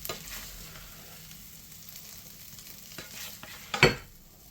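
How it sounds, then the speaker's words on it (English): Quiet sizzling of tinned corned beef hash frying in a pan, with a few scrapes and a louder stirring clatter near the end. "So I leave it in for a good 15-20 minutes frying."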